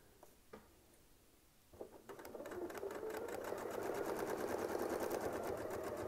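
Sewing machine stitching a quilt design with a ruler-work quilting setup, starting after a few soft clicks and building to a steady, fast mechanical whir that continues to the end.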